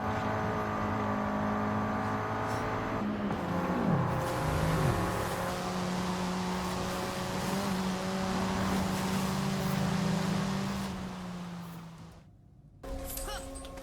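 A car engine in a racing video game holds a steady droning pitch, then revs and shifts with rising and falling tones before cutting out abruptly near the end.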